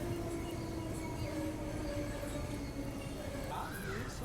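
Rameswaram-Madurai passenger train crossing near a station; a loud, steady close rail rumble fills the whole stretch, with a brief wheel squeal near the end.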